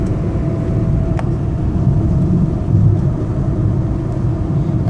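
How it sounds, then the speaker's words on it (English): The suspension of a 2003 Peugeot 206 LX automatic takes bumps while driving, heard from the cabin as a continuous low road rumble with a few soft thumps rising out of it. "Suspension sounds great going over all of these bumps."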